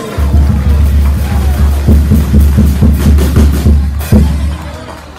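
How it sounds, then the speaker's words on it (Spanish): Loud, sustained applause from an audience at a school anniversary celebration, a dense wash of clapping that holds steady for several seconds with a few sharper claps standing out, then eases slightly toward the end. "Los aplausos fuertes."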